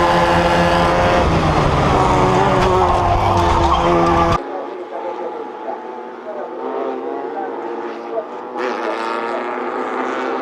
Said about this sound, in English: the BMW rockets into the tyre wall